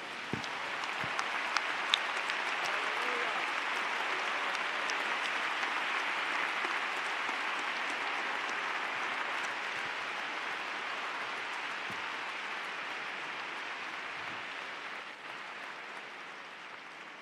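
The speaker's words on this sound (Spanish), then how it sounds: "Él se merece el mejor de los aplausos." Sustained applause from a large audience at a church youth convention in Ecuador marking forty years. Dense, steady clapping fills the whole stretch, loud and even, with no talk over it.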